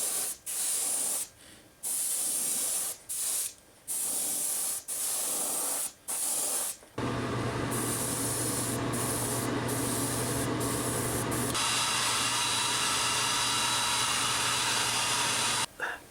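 Airbrush spraying opaque white paint onto a handmade wooden flatfish bass lure, short hissing bursts with pauses at first, then a long continuous spray that brightens and holds to the end.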